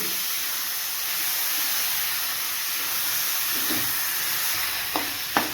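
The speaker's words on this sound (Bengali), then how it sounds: "এখন এগুলো এর মধ্যে দিয়ে দেব দিয়ে আমি এখানে কিছু একটু কষিয়ে নেব" Soaked mixed five-lentil dal sautéing in a pan with spices, a steady broadband sizzle and hiss throughout with a few sharp clicks of a spoon against the pan near the end, close and fairly loud, no talk.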